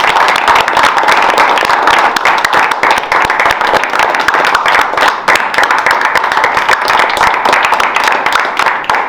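A theatre audience applauds after a performance, dense continuous clapping from a full room, loud and steady throughout with no pause.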